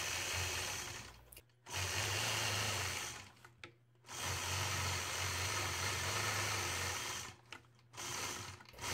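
A sewing machine stitches in the ditch around a quilt block, humming steadily in three long runs broken by short pauses, close and moderately loud with no talking.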